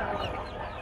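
Chickens cluck in a crowded poultry market in Hemayetpur, Savar, a steady dense clamor of hens and roosters close by with no speech.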